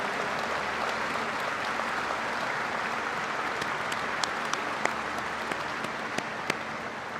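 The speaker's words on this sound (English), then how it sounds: "Please rise and give these leaders in the House and in the United States Senate a big round of applause" An audience at NASA's Kennedy Space Center gives a round of applause for members of the House and Senate, steady, moderately distant clapping with a few sharper claps standing out near the end.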